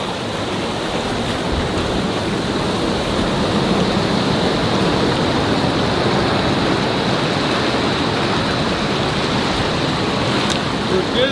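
Surf washing in at Usal Beach, a steady loud roar of churning water that fills the whole stretch without letup and with no voices.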